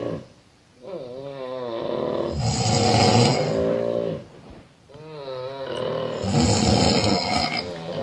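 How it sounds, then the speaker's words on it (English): A person snoring in long rasping cycles, each loud, rattling inhale swelling and fading before a short quiet pause, repeated twice, close and alone without talk. "We have different kind of snoring."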